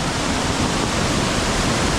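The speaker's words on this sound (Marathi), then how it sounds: "पाणीच पाणी बघा, केवढा मोठा हाऊर आहे" A muddy stream swollen by heavy monsoon rain in the Konkan roars in a dense, steady wash of noise, loud and close, flowing hard without pause.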